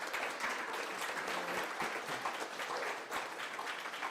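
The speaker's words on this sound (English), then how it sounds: "Give them a round of applause." Steady audience applause at an Edmond, Oklahoma mayoral runoff debate, a dense, even wash of clapping that carries on unbroken for about four seconds with no voices over it.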